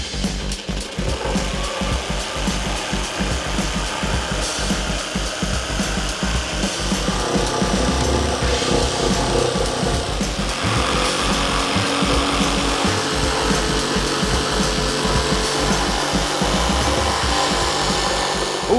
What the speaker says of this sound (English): So let me get a jigsaw rigged up and just hog through this.